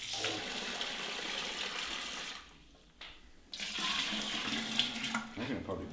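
Cold water runs from a tap into a sink while making mead, a steady hiss with a brief dip and gap midway before the flow returns stronger and continues.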